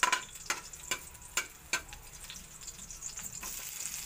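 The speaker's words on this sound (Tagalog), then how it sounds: "Let's saute the garlic." Garlic sautéing in a pan for ginataang hipon, a steady soft sizzle broken by several sharp clicks of a utensil stirring against the pan, no voices.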